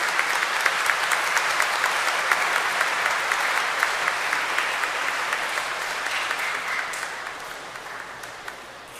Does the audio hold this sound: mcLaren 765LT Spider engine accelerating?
no